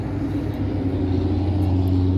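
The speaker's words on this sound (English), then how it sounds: "so you got two into one, and with a dual tipped muffler. Nice deep throaty sound." A 2022 CFMoto Z-950 H.O. side-by-side with a V-twin engine, two-into-one exhaust and dual-tip muffler, idling in a steady deep low rumble, close and continuous.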